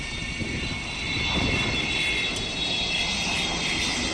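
Avro Vulcan jet bomber roaring overhead, a loud continuous broadband engine rush with a bright whine on top, swelling slightly mid-pass and holding steady without any voices.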